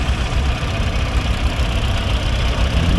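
A Massey Ferguson 35 tractor at a steam rally at Parham Park idles close by, a loud, steady low chugging rumble with a slight knocking throb, continuous and without talk.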